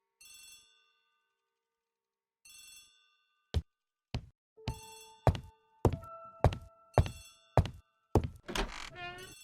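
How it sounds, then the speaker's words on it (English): A telephone rings in a hall with two short bell bursts separated by a pause, followed by a run of sharp thunks and clacks, likely a receiver being handled, with no talking. "The telephone in the hall is ringing."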